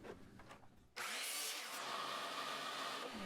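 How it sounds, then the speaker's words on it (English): A miter saw starts abruptly and cuts through a wood board to trim it, with a loud, sustained whine and rasp close by that follows a short stretch of quieter shop noise. "First, I need to trim off all the ugly bits over at the miter saw."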